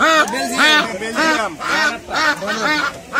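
Ducks, including white ones, quack repeatedly at a busy poultry market, loud nasal calls in a rapid, uneven series close to the listener.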